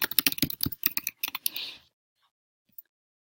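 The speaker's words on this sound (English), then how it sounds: "you can type your instructions in here" Close keyboard typing on a computer: a quick burst of sharp key clicks for under two seconds, ending with a longer press, then near silence with one faint tap.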